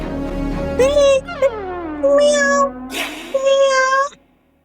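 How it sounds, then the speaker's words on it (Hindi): A cat meows several times in drawn-out, rising and falling calls, close and loud, with brief gaps between them and no talk over it. "बिल्ली है।"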